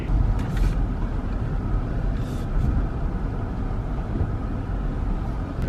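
A Toyota Tacoma climbs a steep section of an off-road trail on Rouse Ridge, its engine giving a steady, close low rumble throughout with a few brief rattles and clunks over the terrain.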